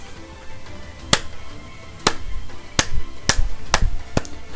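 Sharp, isolated hand claps, seven in all, sound close and loud at uneven intervals over a low background hum, with no talking.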